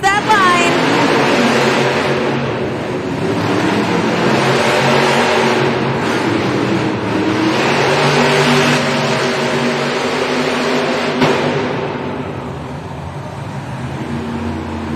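Monster trucks roar at a Monster Jam arena event, with Gravedigger racing an opponent side by side; loud sustained engine revving and crowd noise fill the scene under an announcer's steady commentary.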